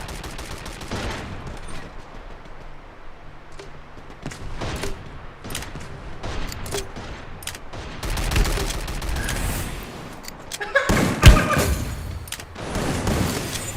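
Rapid volleys of gunfire from the battle game Free Fire MAX, bursts of automatic shots and single cracks rattling through, building louder and denser toward the end with a heavy blast near the close.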